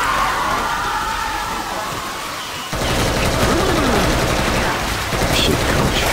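Dense video-game gunfire crackles in sustained bursts over a constant noisy wash, loud and continuous throughout, with a sharper shift in the mix midway.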